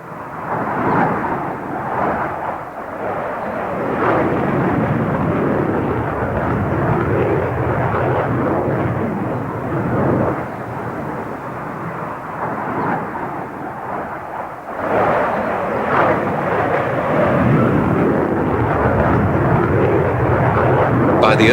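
A North American F-86 Sabre jet roars loudly and continuously, a broad rushing engine noise that dips briefly midway and then swells again, with a voice talking over it.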